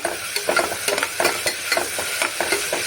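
Ginger garlic paste with green chillies frying in a hot pan, stirred steadily: a bright continuous sizzle broken by repeated scraping strokes of a spoon, close and fairly loud, with no voices.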